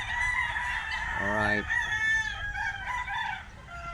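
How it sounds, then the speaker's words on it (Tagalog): Chickens and roosters crow and cluck around a rural yard in Batangas, a rooster's harmonic crow rising over steady background noise and other birds, with a brief spoken word. "Daming manok."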